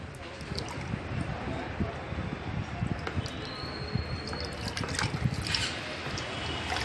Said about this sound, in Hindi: इस फिटकड़ी को मैं इस पानी के अंदर घुमा देता हूँ 10 सेकंड के लिए।